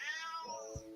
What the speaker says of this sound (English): I heard that meow meow.